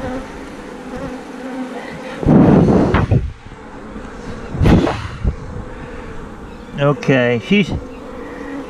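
Bees buzz around an open hive, their drone swelling in a few loud close passes over a steady background hum, with a brief spoken word near the end.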